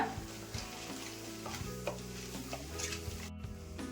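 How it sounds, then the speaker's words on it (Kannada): Chana dal and urad dal fry in hot oil, a close, continuous sizzle and crackle broken by scraping stirs of a spoon in the pan, with no talking. "ಕಡಲೆಬೇಳೆ ಉದ್ದಿನಬೇಳೆನ ಸ್ವಲ್ಪ ಕೆಂಪಗೆ ಮಾಡ್ಕೊಂಬಿಡೋಣ"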